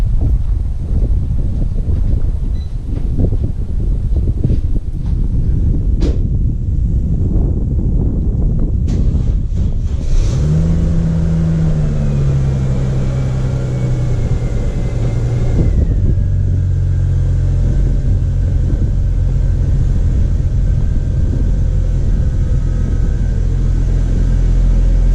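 A Mercedes back on its wheels after a rear subframe replacement starts up loudly, its engine catching and then revving with a rising and falling whine before settling into a steady rumble, with wind buffeting the microphone throughout.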